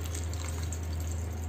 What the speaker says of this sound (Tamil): கொஞ்சமா நான் தண்ணி ஆட் பண்ணிக்கிறேன் மறுபடியும்